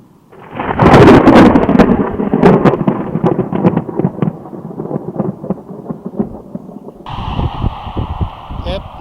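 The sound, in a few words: thunder rumble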